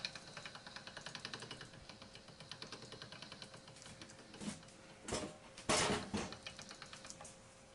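Hand-cranked pasta machine on its thickest setting rolling homemade lasagna dough, giving a steady soft rhythmic clicking and whirring, followed by a few louder bumps and rustles near the end; fairly quiet overall.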